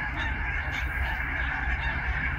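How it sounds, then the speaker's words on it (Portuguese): A dense flock of barnacle geese wintering near Durgerdam in the Netherlands honks continuously, a steady overlapping chorus of calls with no gaps, moderately loud at middle distance. "uma espécie de ganso conhecida como ganso de craca, barnacle goose em inglês"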